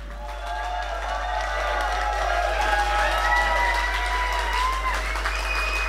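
A crowd at a political rally welcomes Sahra Wagenknecht with sustained applause, cheering and whoops, loud and continuous, with a steady low electrical hum beneath.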